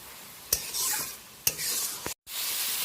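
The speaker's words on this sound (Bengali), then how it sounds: "সব মশলাগুলো ভালোভাবে কষিয়ে নিচ্ছি চিংড়ি মাছের সাথে" Prawns sautéed with ground cumin and coriander in a pan: a continuous bright sizzle broken by a few sharp spatula scrapes and stirring strokes, close and alone.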